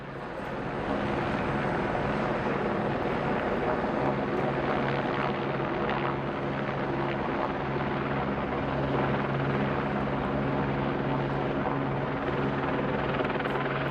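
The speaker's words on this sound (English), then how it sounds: "turn down the helicopter noise just a little bit" Helicopter hovering over a Los Angeles street scene during live news coverage, its steady rotor drone loud and continuous for the whole stretch, with no voices over it.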